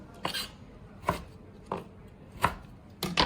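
An old kitchen knife cutting through lemons for pickle on a board, five distinct sharp chops at irregular intervals, close and clear with no talking.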